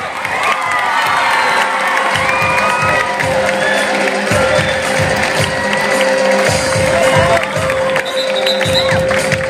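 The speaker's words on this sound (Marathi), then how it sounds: "विद्यार्थ्यांनी उभा राहून शिरसाट सरांसाठी जोरदार टाळ्या वाजवण्यात तरी चालतील" Students at an annual prize distribution ceremony in a school hall raise a loud, sustained crowd roar of cheering and shouting, steady and close throughout, with children's voices prominent and any clapping buried in the din.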